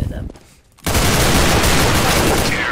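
Gunfire in a CS:GO one-on-one match bursts in loud and dense after a brief quiet lull, then continues as sustained rapid fire to the end.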